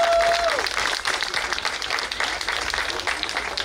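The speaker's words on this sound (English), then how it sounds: "I'd like to give him a round of applause one more time." A crowd applauding at an outdoor bandstand dedication during a bicentennial festival in Houma, Louisiana: dense, steady clapping close by throughout, with a brief tone at the start.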